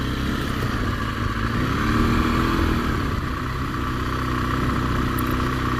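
Steady, close mid-pitched rumble of a BMW R1200GS motorcycle engine on beach sand, running evenly at a low idle-like pace with light mechanical clatter throughout.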